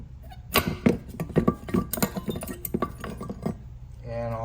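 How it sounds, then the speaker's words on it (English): Front brake pads being pulled out of the caliper on a 2011 Lexus ES350, giving close metallic clinks and clunks in an irregular cluster, followed by a faint voice at the end. "Then you want to remove your pads"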